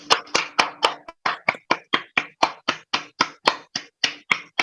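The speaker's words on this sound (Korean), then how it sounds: "우리 함께 박수를 한번" Clapping at a Korean humanities lecture session, about twenty crisp, close claps in a steady, even rhythm, each sharp hit standing clear with brief gaps between them and no talk over it.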